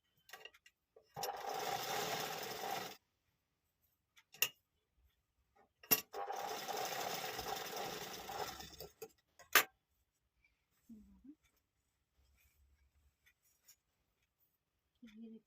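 An electric sewing machine stitches a frill onto a ready-made blouse in two loud, steady bursts of rapid whirring, separated by sharp clicks and quiet pauses while the fabric is adjusted.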